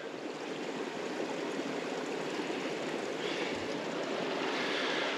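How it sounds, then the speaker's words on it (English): Water rushing steadily in the fork of Elam Creek in a redwood forest, a continuous broadband flow with no breaks, close and fairly loud, with no voices. "Listen to the water."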